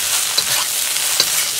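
Hong Kong-style shrimp fried rice being stirred in a hot pan: a loud, even hiss of frying with two sharp scraping clicks of the spatula against the metal.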